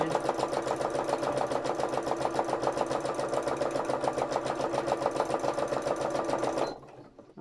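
A sewing machine stitches free-motion embroidery in a steady, fast, even chatter that runs close and loud without a break, then stops abruptly just before the end.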